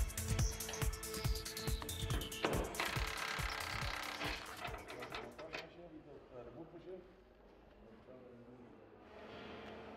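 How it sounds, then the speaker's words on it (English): Bolts being removed from the top platform of a TWIN BUSCH TW 445 four-post car lift, a fast metallic ratchet clicking close up, then a lighter rattle and quieter mechanical handling as it winds down. "you can remove the 4 bolts from the top platform"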